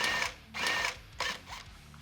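A power tool removes bolts during installation of a Shark Demon 2 plug-and-play unit, with three short whirring bursts separated by brief pauses, fairly close and quiet.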